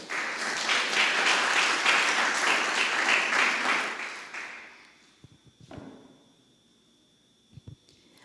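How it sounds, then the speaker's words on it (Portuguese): A church congregation claps together in a full burst of applause for about four seconds, then it fades quickly into near silence broken by a few scattered taps and knocks. "Vamos aplaudir a Jesus."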